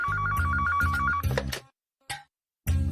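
A telephone rings with a rapid electronic trill, two bursts, then falls silent with brief handling noises.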